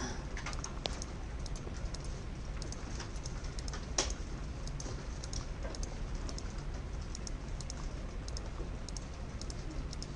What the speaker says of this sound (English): Pay attention to what it is that you're typing in.